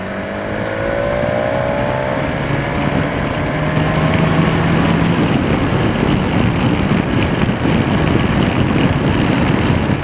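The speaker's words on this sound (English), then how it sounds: "the engine note, you constantly feel like you want to change up" A BMW S1000XR motorcycle's engine drones steadily while riding, a continuous roar heavily blended with wind rush, with no talking.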